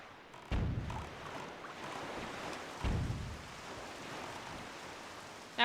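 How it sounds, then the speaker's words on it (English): Rain falls steadily in The Legend of Zelda: The Wind Waker, a soft continuous wash over open sea with a couple of louder surging swells. "Now it's gonna be harder to hear because it's raining."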